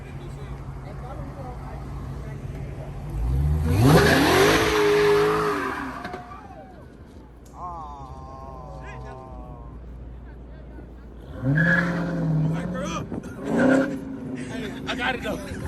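A car pulls away from a dealership lot, engine rising in pitch as it accelerates through gears with a loud surge, then quieter rolling, with people talking over it.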